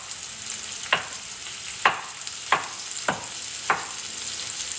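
Sausages frying on the diagonal in a pan, a steady sizzle broken by five sharp spitting pops at fairly even intervals, close and moderately loud with no talking.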